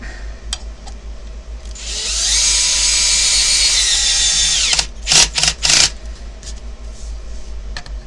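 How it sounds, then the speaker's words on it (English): A power drill whirs steadily for a couple of seconds, then gives a few short bursts, close by with a faint background hum. "Grab my power drill."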